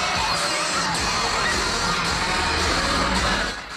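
Frenzied teenage girls scream wildly at a concert at the Radio Disney Jingle Jam, a dense, loud, sustained wall of high-pitched crowd shrieking and cheering that fades slightly at the end.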